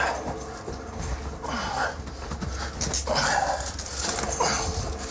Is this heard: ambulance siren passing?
no